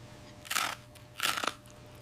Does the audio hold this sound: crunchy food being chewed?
yes